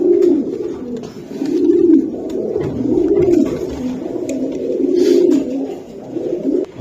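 Two pigeons, a muffed-foot male and a female, coo loudly and close, repeating rolling, low throaty phrases in a steady rhythm about once a second.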